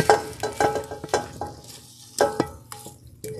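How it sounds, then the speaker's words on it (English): Beef sizzles in a hot pot with intermittent scraping and stirring clatter, close by, in uneven bursts. "we're adding the meat into the pot"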